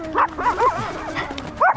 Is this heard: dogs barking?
yes